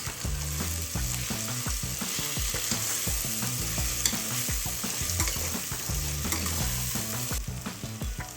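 Fresh green peas fry in a hot pan for vegetable pulao, giving a continuous loud sizzle broken by frequent clattering stirs of a spoon against the pan.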